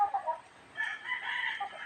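Chickens clucking and crowing nearby in short bursts, a few close calls then a longer rising vocalization, with no talking.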